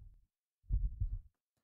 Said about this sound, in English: There might be a heartbeat sound in the background.